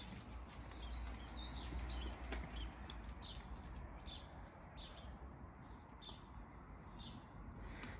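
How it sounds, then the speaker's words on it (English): Faint bird chirps and short calls scattered over a soft, steady outdoor hiss, distant and quiet throughout. "You're listening to the birds, Ray."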